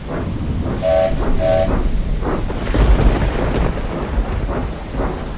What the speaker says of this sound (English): Thunder clapped loudly.